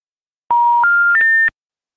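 Telephone keypad dialing sounds out three quick, loud electronic tones in a row, each a little higher in pitch than the last, with no talk.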